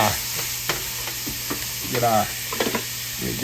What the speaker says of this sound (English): Mix it around in there.